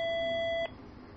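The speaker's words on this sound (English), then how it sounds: "I heard the beeping. I didn't know if it was the phone" A single steady electronic beep sounds on a phone line, clear and sustained for over half a second before cutting off abruptly into faint line hiss.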